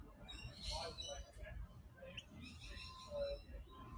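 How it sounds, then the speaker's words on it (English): A noisy miner bird gives harsh squawks among honey-rich flowers at a botanic garden's flower wall and rainforest walk. The calls are fairly faint and repeated over low outdoor background noise. "there's that little noisy miner again"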